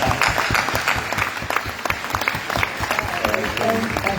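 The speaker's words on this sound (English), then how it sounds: "So please give a round of applause." A room full of people clapping steadily, dense and lively applause, with a few voices mixed in.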